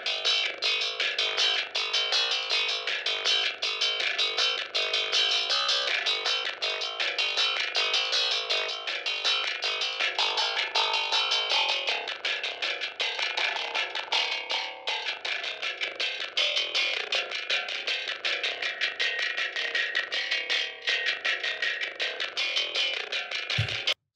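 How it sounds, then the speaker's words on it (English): A soloed death metal bass track plays loud and distorted, with dense rapid picking and a harsh, scraping metallic edge in the upper range, continuous throughout with no talking. "it's almost like both frequencies have like this like metal nasty scraping sound"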